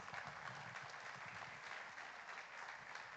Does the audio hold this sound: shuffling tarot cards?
no